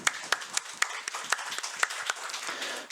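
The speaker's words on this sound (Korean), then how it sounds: "우리 격려의 박수 치겠습니다" A church congregation claps in encouragement for volunteers during a Sunday morning service, a small group's claps sounding fairly sparse and distinct, with individual sharp hits standing out in an uneven rhythm.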